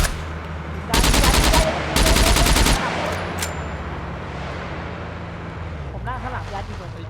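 Gunfire in the survival game SCUM, two loud sustained automatic bursts about a second each, then a single short shot, followed by a lower engine-like hum with someone talking over it.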